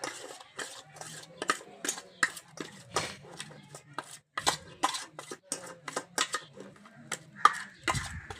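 Raw prawns being mixed by hand with ginger paste in a bowl for a prawn fry: close, repeated clicks, clinks and scrapes in an uneven rhythm, with no talking.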